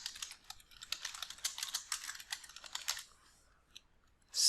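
Rapid, close computer-keyboard typing of a form title, a quick irregular run of key clicks for about three seconds, then a couple of isolated taps and a louder click at the end.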